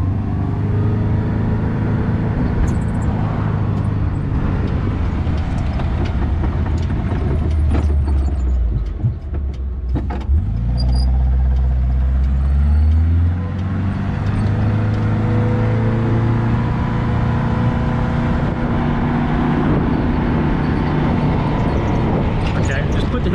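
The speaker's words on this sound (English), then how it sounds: "I could really hear the idle kicking up" A DAF 66 car engine running on the road with hill descent control engaged, a loud, steady low rumble whose idle note swells and climbs partway through, under continuous road and cabin noise.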